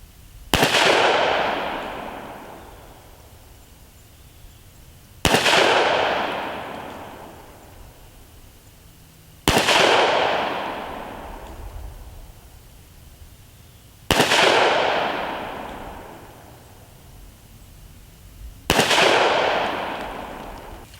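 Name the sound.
9mm ammunition shots fired, five-round group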